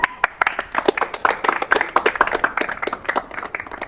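Students in a classroom clap for a prize winner, a lively run of sharp, uneven hand claps at moderate distance that gradually thins toward the end, with little talk.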